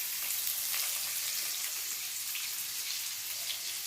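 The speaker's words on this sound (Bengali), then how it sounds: "গোটা গরম মশলা দেওয়ার পর আমি সেই পেঁয়াজ কুচিটা দিয়ে দেবো।" Chopped onion and whole garam masala frying in chicken oil in a pan, a steady, close sizzle with fine crackling pops, constant and even, no voices.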